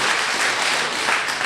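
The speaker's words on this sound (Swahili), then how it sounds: "Pigeni tena makofi." A crowd claps loudly at a gospel album launch, a dense and continuous burst of applause that fills the space evenly throughout.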